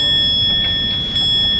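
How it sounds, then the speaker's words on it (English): A meditation chime sounds with a steady, sustained high ring that rings on without a break, loud and alone, and a faint second strike comes near the end. "I have a chime that looks like this and sounds like this."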